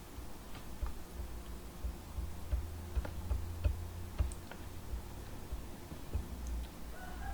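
Faint, irregular clicking of computer keys typing Hindi characters, scattered taps over a low background hum.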